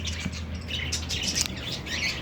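Cockatiels in a breeding aviary chirp and tweet repeatedly, bright overlapping calls up close over a low steady hum, with no talking.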